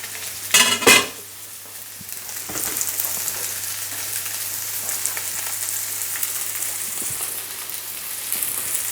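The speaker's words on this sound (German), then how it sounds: "Ruhig ein bisschen langsamer braten." Flour-dredged salmon fries in a pan over moderate heat, a steady crackling sizzle that runs on after a couple of louder clatters at the start, with no voices.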